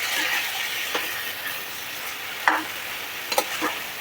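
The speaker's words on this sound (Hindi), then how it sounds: "इसे मैं फ्राई कर दूँगी हाई फ्लेम पे" Mutton frying on high flame in a pan with little water left, a steady broad sizzle with a few short sharp stirring scrapes near the middle and end.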